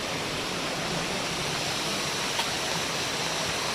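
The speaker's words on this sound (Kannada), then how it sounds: "Water sound ಕೇಳಿಸಿದ್ಯಾ?" Steady broadband rush of a waterfall and flowing stream in a forest near Dharmasthala, a continuous even roar with no talk.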